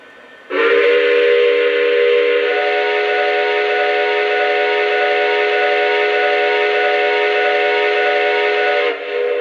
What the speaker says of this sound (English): I really like this whistle.